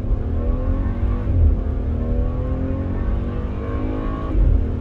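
A turbocharged V6 BMW SUV pulls hard under acceleration, its engine note droning and steadily rising in pitch, loud and close from inside the vehicle with no talking.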